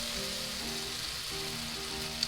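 Sambal frying in a pan with its moisture cooking out gives a soft, steady sizzling hiss under quiet background music, with a tiny pop near the end.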